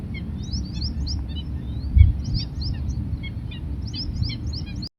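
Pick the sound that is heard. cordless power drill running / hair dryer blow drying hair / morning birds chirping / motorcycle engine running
morning birds chirping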